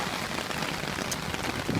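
Heavy rain falls during a rainstorm, a dense, steady patter of drops on surfaces, close and continuous with no voices.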